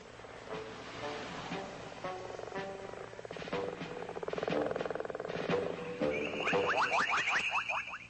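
Layered chorus of croaking and trilling toads, dense and continuous, with rapid rattling calls swelling louder toward the end.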